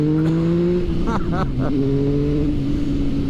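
The engine of a 2016 Triumph Speed Triple R motorcycle hums in a steady, loud drone, dips briefly as the revs shift, then settles back into an even note.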